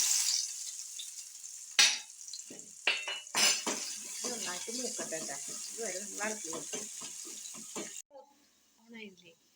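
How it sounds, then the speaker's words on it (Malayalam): Finely chopped shallots dropped into hot coconut oil for a fish curry, bursting into a steady sizzle with stirring and pan clatter, close and moderately loud, and fading to quiet near the end while someone talks over it. "അതിലേക്ക് ഞാൻ വെളിച്ചെണ്ണ ചേർത്ത് കൊടുക്കണേ അതിലേക്ക് ഇതേനോ ചുവന്നുള്ളി ഇതേ ഇന്നെ ചെറുതായിട്ട് അരിഞ്ഞ് വെച്ചിട്ടുണ്ട് അത് ചേർത്ത് കൊടുക്കാം"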